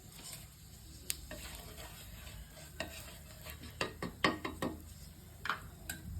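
Cumin seeds hit hot oil on a tawa and crackle faintly, with sharp scraping and stirring clicks from a spatula standing out against a quiet, low sizzle.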